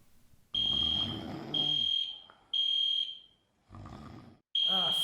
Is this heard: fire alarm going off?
yes